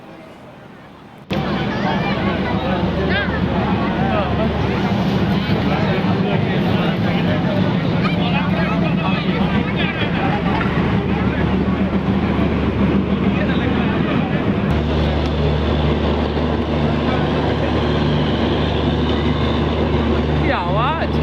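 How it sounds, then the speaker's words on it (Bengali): A train pulling in at a crowded railway platform: a loud, steady rumble of the arriving train fills the whole clip, with a constant low drone and dense crowd noise, shifting slightly in tone partway through as it slows. "অবশেষে ট্রেন এলো।"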